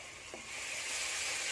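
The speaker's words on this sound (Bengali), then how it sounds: "মশলাটা এভাবে লাল লাল করে ভেজে নেব" Spice paste (masala) fries in a pan while being cooked down until red, a continuous bright sizzle that swells slightly, close and alone.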